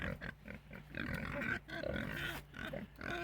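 A little pig in an outdoor pen grunts and snuffles repeatedly up close, a run of low rhythmic grunts with brief pauses between bursts.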